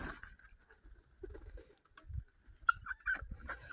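Guinea fowl call in short, harsh, repeated bursts, somewhat distant, with scattered softer chatter and rustling in between.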